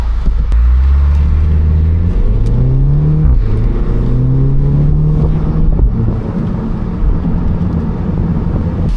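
Convertible car driving with its top down on a Swiss mountain road, its engine loud and close as it revs and shifts through rising and falling tones, with strong wind rush throughout.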